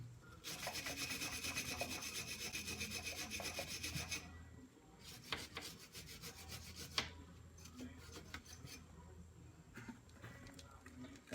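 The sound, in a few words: brushing hard on a brake line fitting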